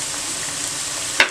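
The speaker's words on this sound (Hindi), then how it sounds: "मिक्स करें, चंद सेकंड के लिए आपने इनको फ्राई करना है।" Spices and green chilies sizzling in oil in a pan while cooking chickpea pulao, a steady close hiss with a brief sharp crackle near the end.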